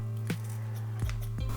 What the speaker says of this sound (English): just a little bit of the chives and I'm just gonna use the scissors and